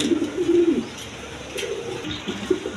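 A pair of White King pigeons cooing close by in low, soft, rolling phrases, repeated several times.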